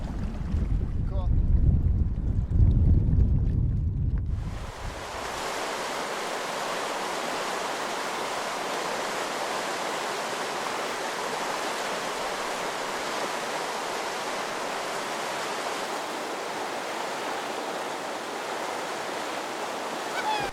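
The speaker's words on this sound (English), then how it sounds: "there's cool boulders creating a fun Class 2 rapid just below Bromley Rock" Class 2 river rapid on the Similkameen River below Bromley Rock, churning past boulders while packrafting; a loud, steady broadband rush of whitewater takes over after a few seconds of low rumbling handling noise.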